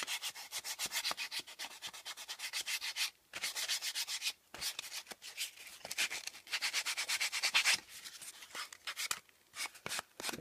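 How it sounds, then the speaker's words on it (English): Sandpaper rubs back and forth across rough wood on a carved letter, making rapid rhythmic scratchy strokes in close bursts separated by short pauses. "I'm going to take the sandpaper and I'm going to sand off that rough part on"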